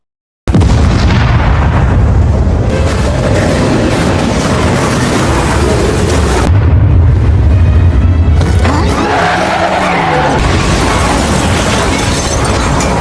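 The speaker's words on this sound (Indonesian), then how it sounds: "hingga terjadi ledakan dahsyat" A massive, roaring explosion from a film, a bomb sunk underwater, with deep rumbling and crackling debris, loud and sustained, followed by a second swell of blast noise.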